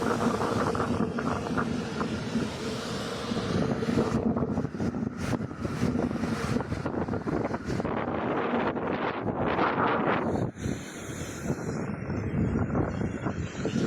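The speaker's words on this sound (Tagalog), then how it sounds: "Panahon ng bagyo, masungit ang panahon." Strong, gusting typhoon wind at the seaside roars and buffets the microphone continuously, with a broad rumbling rush that swells and dips across the whole stretch.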